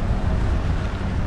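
Wind buffets the microphone at the Maldives airport jetty where speedboats dock, a loud, rumbling low roar that masks any engine sound.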